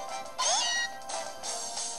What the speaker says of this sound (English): Oh, look, it's a normal meow.